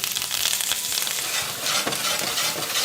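Potatoes frying in butter in a pan give a steady, close sizzle with stirring and scraping throughout, loud and continuous with no talking.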